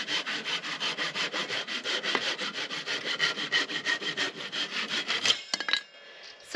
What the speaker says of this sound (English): So even though the sounds of sawing are wonderful,